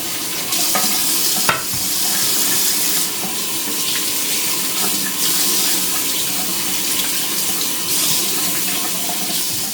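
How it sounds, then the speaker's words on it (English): Tap water runs steadily over a stone two-tier perfume organizer as it is rinsed, a continuous close splashing hiss with occasional knocks of the stone against the sink. "you want to rinse this thoroughly to get any residue off"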